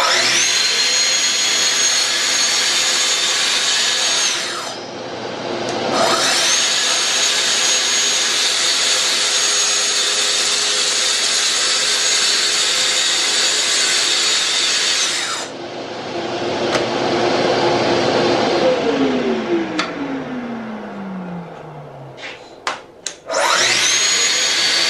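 A Festool TS-55 track saw cuts through wood, a loud sustained high whine that stops for a moment, runs again, then winds down with a falling pitch before starting once more near the end.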